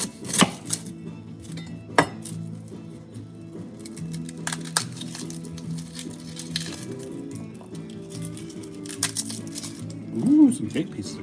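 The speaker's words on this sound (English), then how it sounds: "Ooh, some big pieces of garlic." Garlic is chopped with a knife on a cutting board in a home kitchen, scattered sharp taps and clinks spread over several seconds, faint and close, with a person talking now and then.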